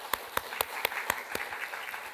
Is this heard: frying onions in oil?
no